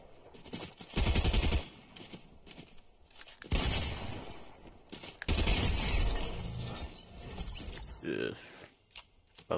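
Fortnite gunfire comes in several loud, rapid bursts separated by quieter gaps with footsteps and game noise, close and punchy, and a voice speaks briefly between the volleys.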